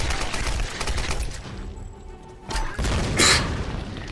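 A grenade goes off in Tomb Raider (2013) amid a firefight, a heavy boom rising over steady rattling gunfire, with a sharp loud burst near the end.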